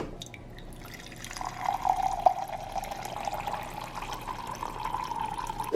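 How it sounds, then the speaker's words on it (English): Tap water runs steadily into a Snackeez Junior cup, a close, continuous pour whose pitch rises gently as the cup fills, over a faint room hum. "I'm gonna fill it up with water"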